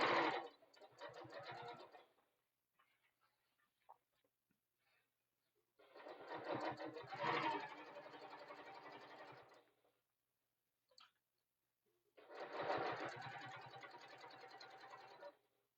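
A sewing machine stitches a tote bag in three bursts of rapid mechanical whirring, each lasting a few seconds and separated by quiet pauses with faint clicks, close and clear.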